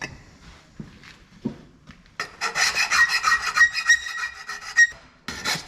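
A swaged turbo pipe end is deburred with a hand tool, giving repeated short scraping and rasping strokes close up. Sparse taps come first, then a dense run of rhythmic rubbing.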